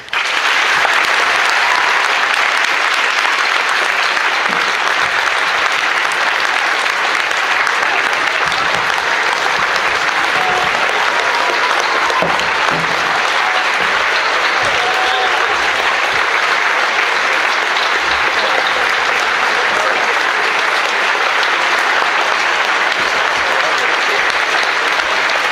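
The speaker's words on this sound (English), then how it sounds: "Can we please have a well-deserved round of applause for these men and women?" A large audience at a school Veterans Day ceremony claps for veterans, steady and loud applause with a few faint cheers, sustained throughout.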